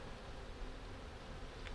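Honeybees and drones buzz steadily at an open hive during colony inspection, a continuous dense hum filling the space close by, with no talk.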